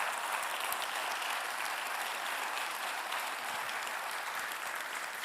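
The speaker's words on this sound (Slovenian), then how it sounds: "to ti izročam en aplavz za mlada umetnika" An audience at a Slovenian national education awards ceremony applauds two young artists, a loud, even wash of many hands clapping continuously with no voices over it.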